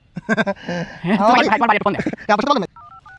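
A telephone is dialed, with a few short electronic keypad tones heard briefly and close after a stretch of speech.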